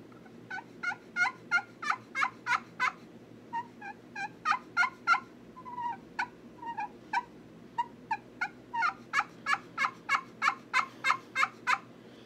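A turkey pot call played with a striker produces long runs of sharp, evenly spaced yelps, with a brief softer stretch midway before resuming at full strength, close up.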